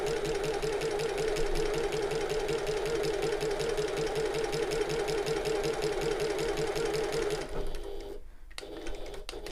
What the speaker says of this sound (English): I'm going to sew as far as the corner